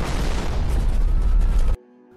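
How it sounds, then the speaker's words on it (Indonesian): A car blows up with the Prime Minister inside, a loud sustained explosive boom and roar that cuts off sharply into near silence, with a faint tone lingering after. "tiba-tiba saat Perdana Menteri masuk ke dalam mobil, mobil itu meledak"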